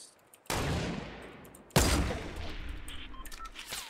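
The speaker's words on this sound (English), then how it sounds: "Fired a minigun right now." A minigun in an online battle royale shooter unleashes two sudden, dense bursts of rapid fire, each sharp onset followed by a sustained roaring rattle that slowly decays, with no talking.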